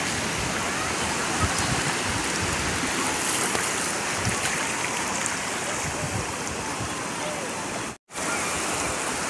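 Continuous broadband wash of sea waves breaking at Digha beach in West Bengal, steady and fairly loud throughout, with a brief dropout near the end.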